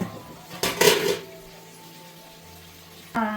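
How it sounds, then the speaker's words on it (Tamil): Country chicken meat is stirred in a metal pan on a stove: a couple of sharp spoon clanks and scrapes against the pan, a quiet stretch with faint sizzling, then another clatter at the end. "இந்த அடுப்பில் வந்து இந்த கறி வதக்கி விட்டுலாம்"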